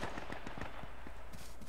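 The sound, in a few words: gunshots in video game H1Z1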